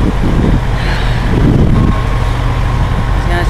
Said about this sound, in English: Hear the diesel trucks behind me.